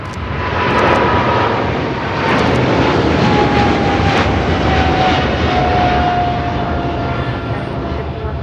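A China Airlines Cargo Boeing 777 heavy freighter takes off from LAX in a loud, sustained engine roar with a long, slowly shifting whine that stays strong throughout.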